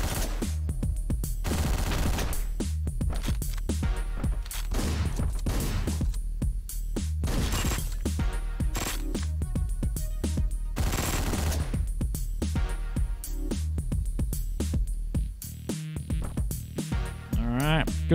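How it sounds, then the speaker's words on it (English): Rapid gunfire and crashing hits from the top-down shooter video game Hotline Miami, loud and continuous over game music for the whole stretch, with dense bursts of shots and impacts. "A definite firefight."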